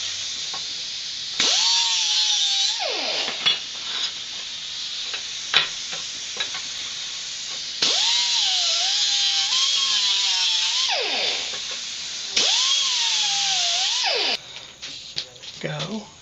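A power tool deburrs metal edges before welding on a car's quarter panel, giving three sustained whining grinding bursts with rising and falling pitch, separated by quieter gaps where voices talk.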